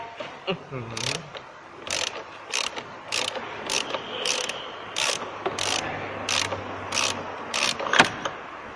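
A ratchet wrench loosening an engine oil drain plug clicks in quick bursts, each followed by a short pause, close up, with a low mechanical hum underneath and no clear speech.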